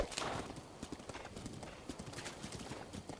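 Rapid hoofbeats of a galloping horse in Zelda: Breath of the Wild patter steadily and fairly quietly, a continuous rhythmic clatter over a soft ambient wash.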